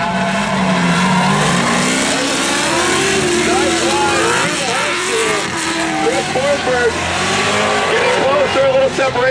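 Two V8 drift cars, a Pontiac and a Nissan, roar through a competition run at Drift Atlanta 2011, engines revving hard with squealing tires and crowd noise, loud and continuous under a commentator's voice.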